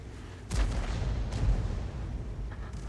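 Tank cannon firing in the World of Tanks game, a couple of deep booming shots with rumbling tails amid continuous low battle noise, no talk.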